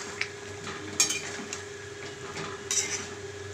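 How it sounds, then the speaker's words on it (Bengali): Spoon stirring egg curry with potatoes in a pot, a few light metallic scrapes and clinks over a quiet simmering background, close and brief. "নেড়ে নেব।"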